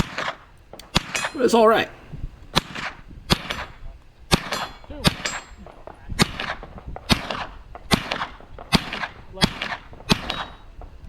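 Sub2000 carbine fired offhand at steel targets, a steady run of about a dozen sharp shots spaced roughly a second apart, each followed by a bright metallic ring of the steel being hit, with brief talk early on.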